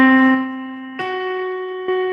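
A tritone interval sounds as sustained, clear tones: one steady pitch that shifts once, then shifts again, each change marked by a soft attack, with nothing else in the background.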